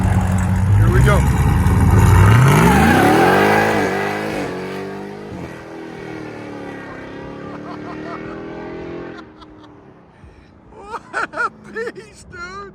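A Demon-swapped Jeep Gladiator with headers and exhaust valves open revs and pulls away, a loud rising roar that sweeps upward then fades into the distance, followed by excited shouting from onlookers.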